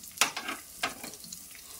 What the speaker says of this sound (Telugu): ఇలా ఉల్లిపాయ వేగుతుంది కదండి